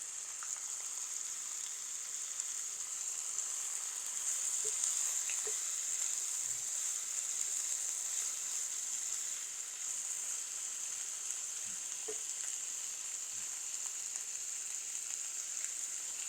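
Onion flowers sizzle steadily in hot oil with onion and ginger-garlic paste, a constant close hiss in a pan with a few faint clinks of stirring and no talking.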